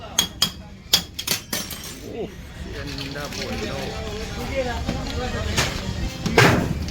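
A quick run of sharp glassy clinks and rattles of ice knocking in glasses as kulukki sarbath is shaken, then a steady background of voices and clatter.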